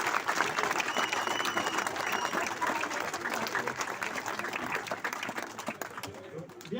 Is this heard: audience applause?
yes